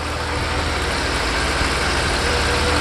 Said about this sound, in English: I hear a little bit of a the exhaust leak somewhere.